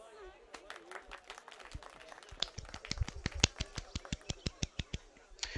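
Video game character from Assassin's Creed Mirage clapping, a run of quick, sharp hand claps that grows denser and louder, heard close over a faint voice.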